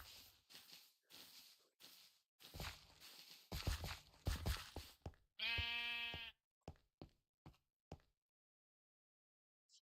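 A sheep in a video game gives a single loud, wavering bleat amid a series of sharp knocking and stepping sounds, followed by a few short clicks and then silence.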